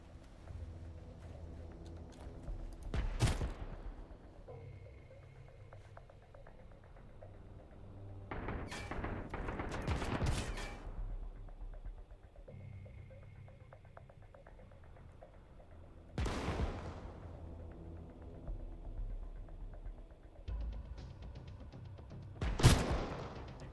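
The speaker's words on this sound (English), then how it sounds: "Be real nice to get it with this cannon." Cannon fire in Sunkenland blasting an enemy turret: several loud, sharp booms spaced a few seconds apart, each cracking across the full range over a low rumbling game ambience with occasional heavier bursts.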